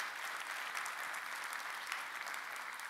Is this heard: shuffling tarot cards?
no